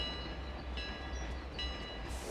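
A steady rumbling video game train runs close by, with a sustained horn-like tone over the noise, brief and continuous.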